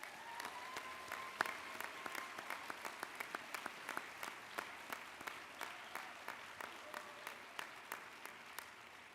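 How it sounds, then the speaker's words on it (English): Applause from the audience at a university commencement ceremony for the College of Letters, Arts and Sciences, heard as a sustained, somewhat distant wash of clapping with sharp individual claps standing out at a steady rhythm. "Give your mentors a round of applause."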